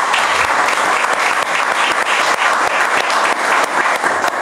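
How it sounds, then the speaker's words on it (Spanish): Loud, sustained audience applause at a book presentation, a close, continuous wash of clapping hands lasting a few seconds. "a quien ese aplauso quiero que sea doble"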